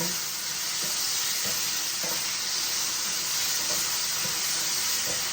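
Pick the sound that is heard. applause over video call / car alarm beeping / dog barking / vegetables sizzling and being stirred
vegetables sizzling and being stirred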